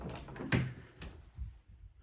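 An 8-foot hinged closet door in a model-home bedroom swings open with a short clunk and soft rubbing, followed by a faint thud, heard close and quiet.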